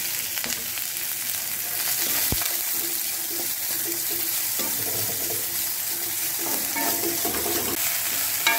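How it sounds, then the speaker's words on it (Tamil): Onion and green chili sautéing in a pan with fried chana dal for a brinjal chutney, a constant close sizzle with scraping stir strokes and occasional light clinks, without speech. "இனிமேல் வெங்காயம் பச்சை மிளகாய் போட்டுக்கேன்."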